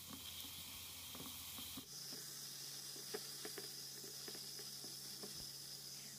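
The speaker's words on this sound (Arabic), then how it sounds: "أول شي حطيت البصل على الزيت وبدأت أحرك فيه وخليته إلى أن يذبل" Onions hiss and sizzle in oil in a pot for an okra and meat stew, a steady faint frying hiss with small crackles and a few soft stirring knocks, heard alone without talk.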